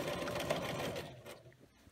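Home sewing machine quilting a serpentine stitch through a quilt, a steady fast whirring hum of the running needle for over a second, then easing off and slowing into softer mechanical clicks.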